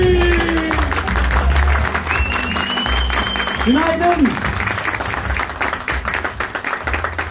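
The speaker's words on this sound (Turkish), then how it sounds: "sanki böyle sahneye çok ünlü birisi çıkıyormuş gibi alkış başlat" Audience applause as a presenter comes on stage at a real estate training camp, loud crowd clapping with a cheer, followed by the presenter greeting the room over the fading claps.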